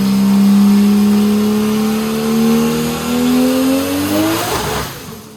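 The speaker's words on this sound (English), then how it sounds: "So what you just heard was the sound of the engine running away." A 2JZ engine in an RX7 on a dyno runs away, its loud, steady tone climbing in pitch for several seconds before cutting off abruptly, close and without talk.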